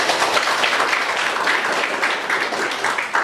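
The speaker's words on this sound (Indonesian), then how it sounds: "Kita beri aplaus buat dia ya" Classroom applause for a student in a social studies lesson, a dense, steady round of clapping from a group lasting the whole stretch, close and fairly loud with no talking over it.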